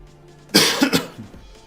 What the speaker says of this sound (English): a slightly lingering cough makes casting a little annoying